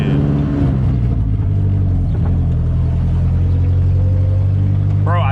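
A turbocharged car drives through a neighborhood after losing its wastegate, its engine a loud, deep, steady rumble heard from inside the cabin, with a person talking over it.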